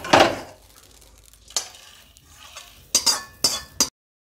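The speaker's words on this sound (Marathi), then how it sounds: "त्यासाठी आपल्याला खसखस नंतर टाकून भाजून घ्यायचे आहे" Poppy seeds roast in a pan with coriander and cloves, with a spoon scraping and clinking against the metal in short bursts over a soft, low sizzle, ending abruptly.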